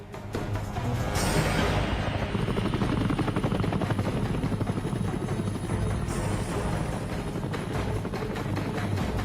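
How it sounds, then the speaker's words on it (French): American military helicopters roar continuously during the Vietnam War, a rapid, thudding rotor beat, loud and steady throughout without any voices. "contraignent les hélicoptères américains à venir les secourir"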